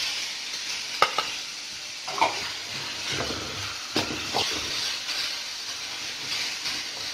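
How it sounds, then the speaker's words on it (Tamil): Chopped carrots and beans are stirred in a pan with a soft, steady sizzle, punctuated by a few light scraping clicks of the spoon against the pan. "பீன்ஸையும் கேரட்டையும் கலந்தாச்சு."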